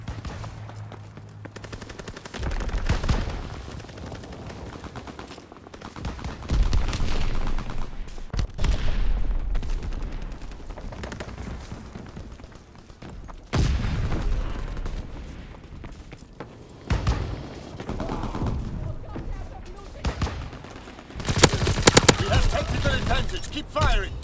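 Bursts of automatic gunfire and single shots crack in a Call of Duty: WWII team deathmatch at a flak tower, loud and close in repeated volleys with short pauses, while voices talk in between.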